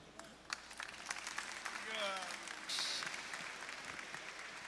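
Audience at a municipal secretaries' swearing-in ceremony applauding, a faint, distant wash of steady clapping with some voices mixed in.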